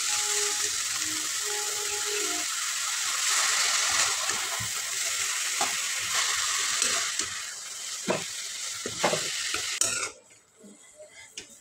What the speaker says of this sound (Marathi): मेथीची भाजी या कढईत टाकल्यानंतर व्यवस्थित चांगली मिक्स करून घेऊ